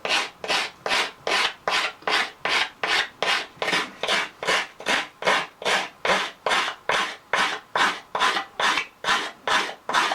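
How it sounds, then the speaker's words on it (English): A wood rasp files and curves the edge of a wooden piece for a homemade turkey call, making about two dozen loud, even back-and-forth rasping strokes in a steady rhythm, close up with no talk. "I'm just going to take a wood rasp and I'm going to curve that piece of wood on the edge"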